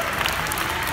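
Audience applause fills the hall after a slow waltz by a junior standard couple at a ballroom dance competition, steady and dense throughout with no talk.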